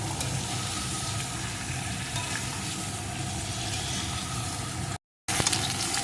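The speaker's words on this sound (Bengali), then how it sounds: "বেগুনটাও আলুর সাথে একটু ভেজে নেব" Eggplant and potatoes fry together in oil in a pan, a dense, even sizzling hiss that runs steadily, breaks off in a brief silence, then resumes with a few sharper crackles.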